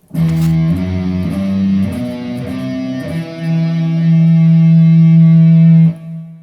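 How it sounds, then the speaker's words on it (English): A distorted electric guitar plays a slow, sustained Hirojoshi scale line, notes ringing long with heavy effects and reverb, ending on a held tone. "Whereas Hirojoshi sounds like this."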